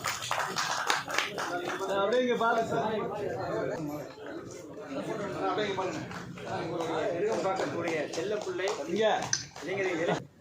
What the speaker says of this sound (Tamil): எல்லாரும் ஒரு சத்தமான கைத்தட்டல் கொடுத்துடலாமா?